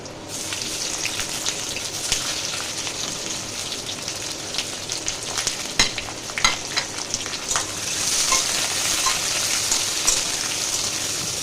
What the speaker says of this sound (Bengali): দেখো আলুটা অনেকটাই ভাজা হয়ে গেছে